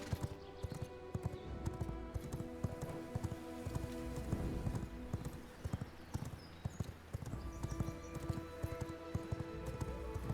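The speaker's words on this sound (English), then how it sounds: "I don't know how to freaking ride a horse." Horse hooves clip-clop steadily in the video game V Rising, a rapid continuous rhythm of loud, close hoofbeats over a dense layer of game sound with no talking.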